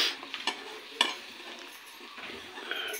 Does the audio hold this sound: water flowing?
no